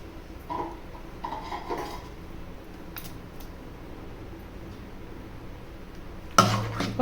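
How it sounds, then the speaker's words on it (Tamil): Sambar gets stirred in a pot with a ladle: a few soft metallic scrapes and clinks, faint and sparse, ending in a sharper louder clatter of metal against the pot. "இப்போ கிளறி விட்டுக்கோங்க."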